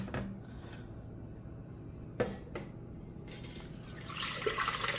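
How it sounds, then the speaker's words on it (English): Water from cooked white beans draining as they are strained in a kitchen: a steady wash of pouring, splashing liquid with a few sharper clatters, growing fuller toward the end. "I'm going to strain my beans."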